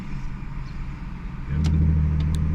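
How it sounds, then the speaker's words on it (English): A Mustang 3.7 V6 with a Borla ATAK exhaust, BBK shorty headers, H-pipe, cat delete and resonators accelerates in city traffic, heard from the cabin: a mild drone that swells into a deeper, louder exhaust note halfway through. "you can already hear the exhaust"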